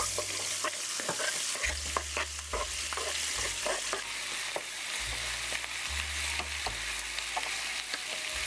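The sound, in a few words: onions frying in pan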